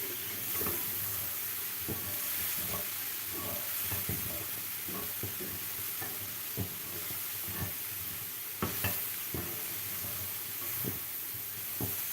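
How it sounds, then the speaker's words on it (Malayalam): Mixed vegetable thoran cooking dry in a pan without added water, stirred now and then: a steady low sizzle with repeated soft scraping strokes of the spoon, fairly quiet and close, with no voices. "ഇടയ്ക്കൊന്ന് ഇളക്കി കൊടുക്കാം"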